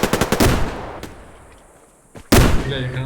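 Airsoft gunfire during a battle at a fort, with a rapid burst of sharp shots, a single crack, a fading pause, then another loud cluster of shots, close and harsh, with faint voices in the background.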